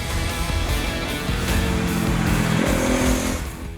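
A Bajaj Pulsar 250 with a 249cc single-cylinder engine and offset crank runs steadily and loud at close range, holding a dense even drone. Its pitch lifts slightly near the end.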